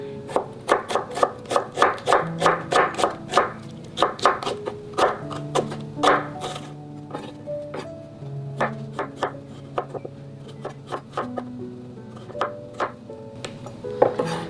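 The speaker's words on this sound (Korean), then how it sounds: "감자는 익는 속도가 조금 오래 걸리기 때문에 아주 얇게 이렇게 썰어 주었어요." A knife slices potato very thinly on a cutting board, producing a quick, steady run of close, crisp taps that slows into more irregular cuts toward the end, with no speech.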